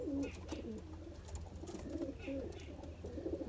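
Teddy pigeons of the border breed coo repeatedly in soft, rhythmic bursts from close by, with low background hum and little other noise.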